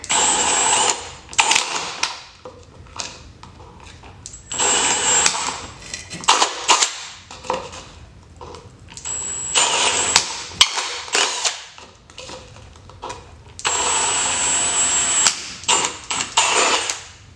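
A power drill bores air holes through a plastic container lid, used for shipping a reptile, in several close, loud bursts of whirring separated by brief pauses, with sharp clicks and handling noise between runs and no talk.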